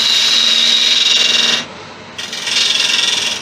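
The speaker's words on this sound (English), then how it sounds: "I need to go in there a little bit more with that detail gouge." A detail gouge cuts into driftwood spinning on a wood lathe while turning a large snowman, giving a loud, close, continuous scraping hiss that dips briefly in the middle before resuming.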